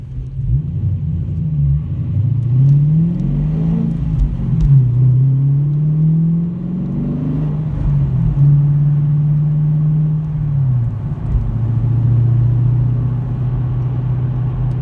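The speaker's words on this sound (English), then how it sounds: "I've missed driving this car." A three-year-old car with under 20,000 miles drones steadily through its engine while driving, the low rumble rising and falling with light revs and holding loud and close throughout, with no talk.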